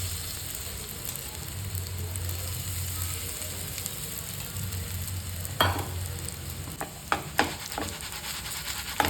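Cornflour-coated tofu fries in hot oil in a pan, giving a steady close sizzle throughout, with a few sharp clinks and scrapes of stirring near the end.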